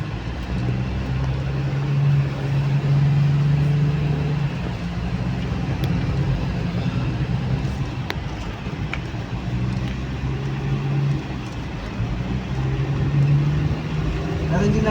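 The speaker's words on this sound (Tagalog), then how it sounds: "Puro halos truck ang dumadaan dito." Steady engine drone of heavy trucks passing on a road in North Luzon, a continuous rumble with a low hum swelling and fading as vehicles go by, heard from a moving vehicle.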